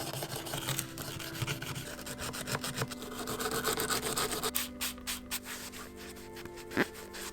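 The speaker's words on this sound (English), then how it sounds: "I'm just going to use a wire brush and this should take off most of it" Wire brush scrubbing surface rust off the seat rails of a neglected GT Gutterball fixed-gear bicycle, a steady rapid back-and-forth rasping that runs close and continuous, then breaks into a few short scrapes.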